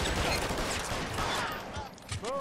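Rapid Tommy gun bursts roar through a shootout in the video game L.A. Noire, loud and dense for most of the stretch before thinning near the end, with no voices over it.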